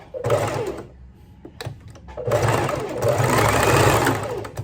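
A sewing machine stitching the body of a small handmade doll, its motor whirring in two bursts separated by a short pause, close and fairly loud, with a hint of voice underneath.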